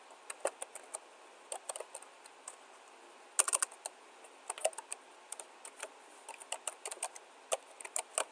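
Fast, irregular key clicks from typing a facility name on a computer keyboard, quiet and close with short bursts and brief pauses, no voices.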